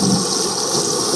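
A loud, brief wash of churning water as someone steps into a river, a dense rushing splash lasting just over a second with no voices.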